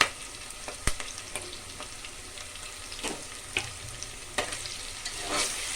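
Ginger garlic paste sizzles and fries in a pressure cooker while being browned for tomato rice, a steady close sizzle punctuated by sharp metal taps and scrapes of stirring.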